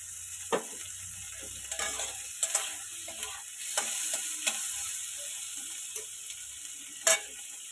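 Onion, tomato and green chillies being stir-fried in fish oil, a softer sizzle with sparse spatula taps and scrapes against the pan, one sharper knock near the end, no talking.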